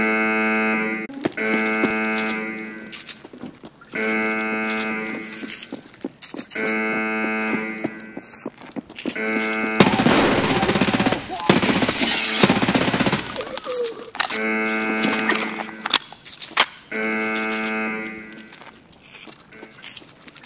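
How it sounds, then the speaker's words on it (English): SA-58 rifle fire in a shooter game, heard as a dense burst of loud, close gunfire in the middle of the stretch, set among repeating electronic tones and game sounds. "That's an SA-58 shooting, right?"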